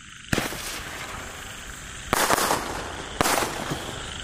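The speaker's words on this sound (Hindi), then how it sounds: "ये लगे इसको आग, और देखो काफी खतरनाक चलने वाले हमारे सिग्नल रॉकेट" Diwali signal rockets go off one after another, three sharp loud bangs or whooshing bursts spaced a second or two apart, each trailing into a brief hiss outdoors.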